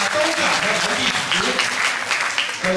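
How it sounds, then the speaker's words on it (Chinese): An audience at a Rotary Club gathering in Taipei claps in a dense, steady burst of applause throughout, close and full, with a voice faintly audible beneath it. "咱再次给你们掌声"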